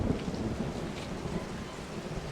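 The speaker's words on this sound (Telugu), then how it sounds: "బయట అయితే బీభత్సంగా వర్షం ఉంది." In the Resident Evil video game, heavy rain pours outside with rolling thunder, a steady dense downpour heard from indoors, with no voices.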